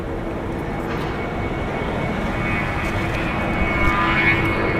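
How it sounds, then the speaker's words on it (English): A four-year-old Spirit Airlines Airbus A320 departs LAX for Atlanta, a steady, moderately loud engine rumble and hiss with a faint high whine, sustained without a break. "Departing here is Spirit Airlines Flight 631 going to Atlanta, Georgia. It's an Airbus A320."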